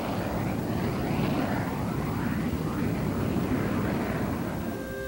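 A high-performance military jet flying, heard as a steady, loud, broadband roar that holds constant with no pauses and no voices over it.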